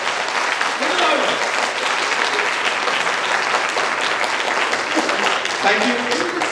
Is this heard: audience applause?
yes